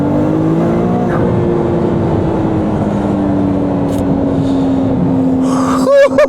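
A rear-wheel-drive car's engine hums steadily close by with a slowly shifting pitch, ending in a sharper rev burst and some handling noise at the close.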